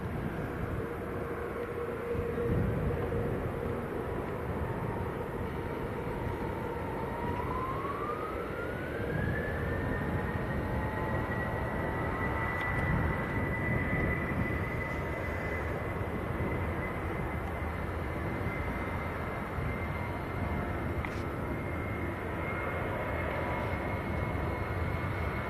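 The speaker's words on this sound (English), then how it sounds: "We've had the A350 and now the Dreamliner." A Qatar Airways Boeing 787 Dreamliner at Manchester Airport gives a steady, fairly loud engine roar with a whining tone that rises midway and then holds high, continuing alone throughout.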